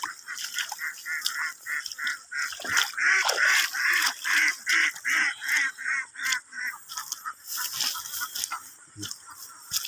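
Ducks (itik) being herded across a rice field in the Philippines, a loud flock quacking in rapid, overlapping bursts that run steadily throughout, close by, with no talking.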